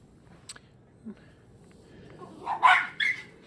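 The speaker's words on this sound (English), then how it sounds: "now the dogs have spotted the cat, so we'll get some barking" A dog barks a few times from a short distance, sharp yaps over a quiet low background hum.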